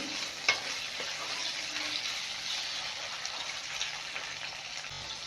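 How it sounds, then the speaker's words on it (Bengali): Flat beans (sheem) fry in oil in a home kitchen pan, giving a soft, even sizzle with a single light tap of a utensil early on. "সিম হালকা করে ভেজে নেবো খুব ভালোভাবে ভাজার দরকার নেই"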